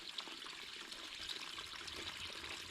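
Liquid calcium ballast draining steadily out of a cut Minneapolis Moline G950 rear tractor tire, a continuous close hiss and trickle with no pauses.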